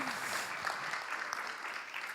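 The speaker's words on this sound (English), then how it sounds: "let's give him a round of applause for that" A round of applause from the audience at an ICT summit masterclass, with steady, moderately loud clapping from many hands continuing throughout.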